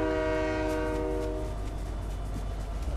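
A train in Fortnite sounds its horn, a loud sustained multi-tone blast that holds for about a second and a half, then fades into the steady rumble of the moving train.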